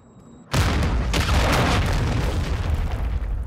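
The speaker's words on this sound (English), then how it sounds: "Hostile cruise missile incoming." A cruise missile strike in the video game Call of Duty Modern Warfare 2 lands as a sudden loud boom. It is followed by a sustained roaring rumble of debris and fire lasting several seconds, with no voices.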